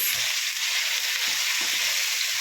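Onions sweating in a pan for a potato omelette give off a steady, even sizzle from close by, broken by a few soft low bumps, with no voices.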